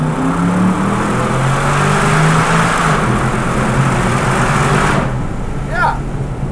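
An Aston Martin DBX SUV accelerates hard in second gear from about 3,000 rpm. A deep, loud engine drone rises steadily in pitch, then eases off, heard from inside the cabin with continuous road noise.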